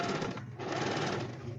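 A sewing machine stitches a thin red fabric loop, a narrow spaghetti-strap tie for a child's Santa dress, running in a fast steady rhythmic whir that dips briefly partway through.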